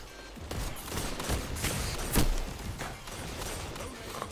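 Rapid gunfire from a gun in Destiny 2 Quickplay, a dense run of loud overlapping shots with a sharper burst midway, under busy game noise.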